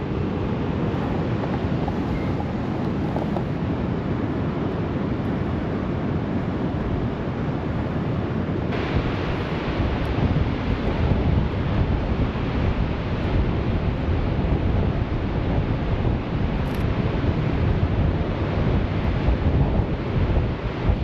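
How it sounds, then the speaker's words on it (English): Strong wind blows steadily outdoors in autumn Minnesota, buffeting the microphone with a continuous loud roar and rumble that gusts slightly stronger partway through, with no voices. "the wind's kind of picking up a little bit"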